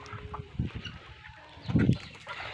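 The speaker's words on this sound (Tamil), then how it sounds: "வேறு லெவலில் ஒரு கோழி இருக்குது." Hens clucking at a big hen house, a few short soft clucks and scratchy farmyard rustles, with one louder burst of clucking near the end.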